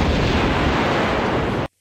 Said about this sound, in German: Death by explosion is undoubtedly the goriest way for Lara to die in the classic games